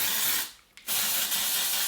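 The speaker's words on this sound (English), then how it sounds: "I'm gonna start spraying shit in this wig." Hairspray hisses onto a synthetic wig in steady bursts, a close, loud broadband spray with one brief pause midway before spraying resumes.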